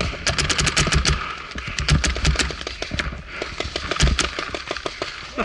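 Rapid bursts of paintball guns firing during an outdoor paintball game, dense overlapping volleys of sharp pops at close and middle range, continuous through the whole stretch with no talk.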